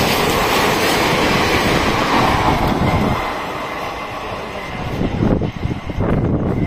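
Rajya Rani express train overtaking at high speed, heard from aboard another train: a loud, steady rushing roar of wheels and wind that dips briefly, then swells again with clattering bursts.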